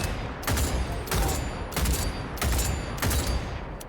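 SOR-22 bolt-action precision rifle in the Cyberpunk game firing five loud shots at a steady pace about 0.6 seconds apart, each a sharp blast trailed by a clunky metallic clack, with no talking.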